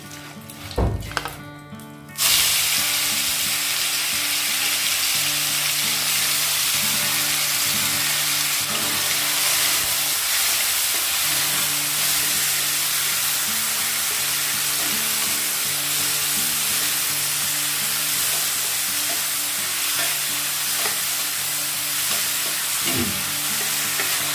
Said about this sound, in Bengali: একটু হলুদ দিয়ে চিংড়ি মাছটা প্রথমে ভাজবো